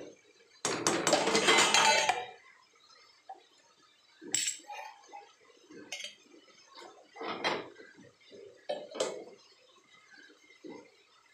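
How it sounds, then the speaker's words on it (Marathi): A metal lid goes onto a pot of cabbage cooking in a home kitchen, a burst of clattering metal followed by scattered lighter clinks and taps of cookware, close and fairly quiet. "त्याच्यावर झाकण देते"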